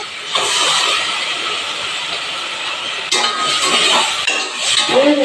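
Ground paste hits a hot pot for Sindhi biryani, setting off a loud, close, hissing sizzle that surges again partway through, with a light clink near the end.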